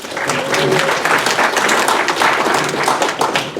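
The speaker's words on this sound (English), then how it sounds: "Please give him a round of applause." Audience applause at a business community gathering, a steady dense patter of many hands clapping throughout, fairly close and even in loudness.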